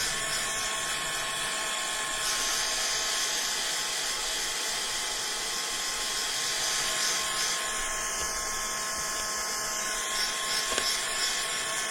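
A dryer blows steadily to dry paint on a craft project, a loud continuous airy hiss and whine lasting throughout, near and unbroken with no voices.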